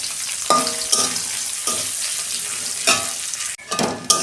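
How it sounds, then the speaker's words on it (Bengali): Onion and black cumin fry in a little oil in a wok, loud sizzling swells in repeated bursts as the pan is stirred, with scraping stirs between, no talk. "ওই কড়াতেই আমি অল্প তেল দিচ্ছি। এই যে অল্প কালো জিরে দিচ্ছি। এই যে পেঁয়াজ দিচ্ছি।"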